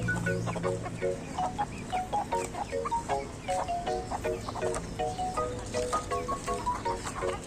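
Several hungry chickens cluck steadily and close by, short repeated calls overlapping in a busy flock chorus over a low background rumble.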